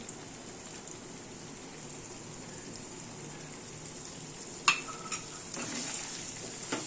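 Spice paste for a vegetarian banana stem dish sizzles softly in a pan, a low steady frying hiss with a sharp utensil clink partway through and louder stirring scrapes toward the end.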